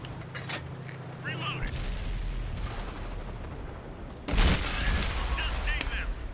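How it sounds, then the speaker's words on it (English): Tank cannon fire in World of Tanks with an M51 Super Sherman, booming shots and a sharp metallic impact of a round ricocheting off armour plate, amid ongoing battle rumble. "my shot bounces off the lower plate"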